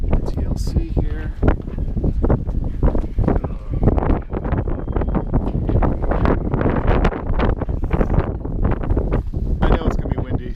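Heavy wind buffets the microphone continuously aboard a Westsail 32 sailboat, producing loud rumbling gusts throughout.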